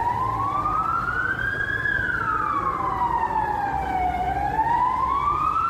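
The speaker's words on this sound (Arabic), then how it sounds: "صفارات سيارات الإسعاف ووجود لسيارات الشرطة أيضا في المنطقة" A wailing ambulance siren sweeps slowly up and down in pitch, loud and continuous, with a low traffic rumble underneath and no talking, after a bombing in Ankara, Turkey.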